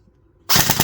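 G&G M4 airsoft rifle firing a sharp, close burst of rapid mechanical shots with recoil, starting abruptly after a near-silent moment.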